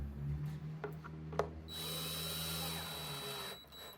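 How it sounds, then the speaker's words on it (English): A countersink bit drills into a wooden French cleat for a tool shelf: a few brief knocks, then a steady, close whirring drill run lasting about two seconds before it stops. "then made the holes with a countersink bit"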